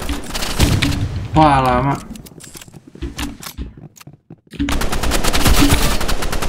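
SCAR rifle gunfire in a Roblox first-person shooter: loud rapid automatic bursts, a short burst, scattered shots, then a sustained volley, with a player talking in between.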